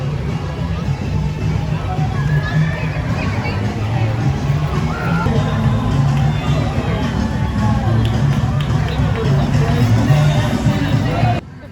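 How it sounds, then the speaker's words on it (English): An excited crowd lines the route of the Universal Orlando Mardi Gras parade, a dense, constant roar of voices and cheering with shouts rising through it, heard close and loud throughout. "Throwing beads, interacting with the crowd. The crowd is super excited to be here"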